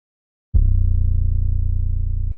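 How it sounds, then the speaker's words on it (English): A dry 808 bass sample hits after half a second of silence and sustains as a loud, deep, slightly distorted tone with a steady pulsing texture until the end, with no other sounds. "I've just taken a pretty dry 808."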